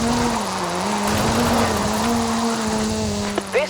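Ken Block's Hoonigan Gymkhana 10 Ford Focus RS RX with a 2-litre turbocharged front-mounted engine, in the Drift Club video game, droning at a steady, near-constant pitch, loud and close, with a couple of brief chirps near the end.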